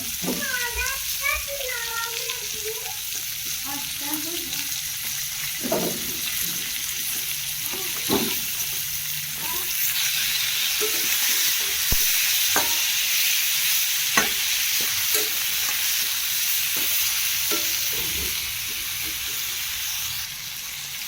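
Eggplants sizzle and fry in a pan with tomato, spices and potato nearby, a steady crackling hiss with repeated scraping stirs and clinks of a spoon throughout, while a voice chatters briefly early on.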